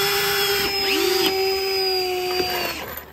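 Power drill driving screws into deck boards of a back porch, a steady high whine that holds for nearly three seconds, dips briefly as it bites, then winds down, close and loud.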